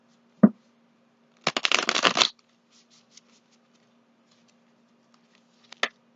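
A Wild Unknown tarot deck is handled, with a single sharp tap, then a brief burst of riffling card shuffle lasting under a second, followed by quiet and a final card snap, close up with no talking.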